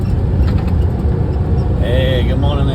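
A big truck passes close by on a road, its loud engine rumble filling the whole clip as a steady roar, with a brief higher whine near the end.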